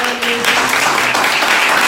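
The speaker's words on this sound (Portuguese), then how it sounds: "palmas para o Renato Meirelles" Audience applause for the interviewee at the close of a student interview event, a steady wash of many hands clapping, loud and close throughout.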